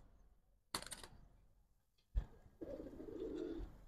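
A Giribaz pigeon coos close by in one sustained low phrase near the end, after two sharp clicks and rattles earlier on.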